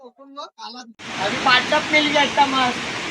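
The Dugarwadi waterfall gives a loud, continuous roar nearby. A voice speaks alone at first, then carries on over the rushing water.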